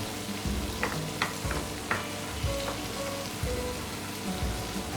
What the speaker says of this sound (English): Continue saute this under medium heat.